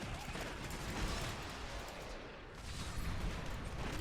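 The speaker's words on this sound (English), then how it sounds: "And of course, all those explosions." Explosions from Crusader combat in the video game Diablo 3 Reaper of Souls, heard as a fairly quiet, dense barrage of crackling bursts and rumbling blasts throughout.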